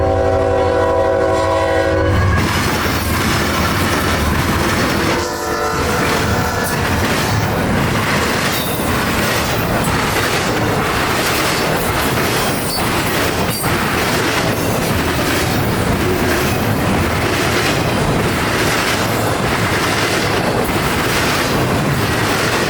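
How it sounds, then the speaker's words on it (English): A Florida freight train hauling Tropicana reefer cars roars past loudly and close, opening with a horn blast, then continuous rumbling wheels and rail clatter with occasional squeals throughout. "this train has also started carrying Tropicana reefers"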